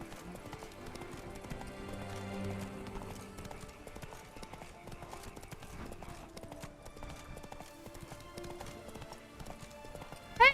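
Horse hooves clip-clop steadily in the Witcher 3: Wild Hunt video game, a continuous rhythmic trot in the foreground with a brief sharp sound right at the end.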